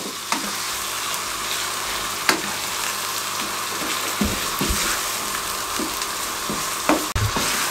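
Minced meat keema with onions and whole spices sizzles steadily in a hot pan, with occasional louder scrapes and knocks of a spatula as it is mixed, close and continuous.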